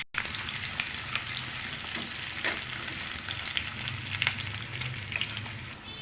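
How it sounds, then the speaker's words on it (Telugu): Onion pieces fry in hot oil in a kadai with a dense, steady crackling sizzle that stays close and even, broken by a few sharper pops and light stirring scrapes. "ఆయిల్ వేడయ్యాక ఉల్లిపాయ ముక్కలు వేసుకుందామండి"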